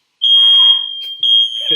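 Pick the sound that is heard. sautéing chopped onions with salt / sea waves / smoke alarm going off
smoke alarm going off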